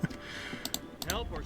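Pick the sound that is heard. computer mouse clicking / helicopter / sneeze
computer mouse clicking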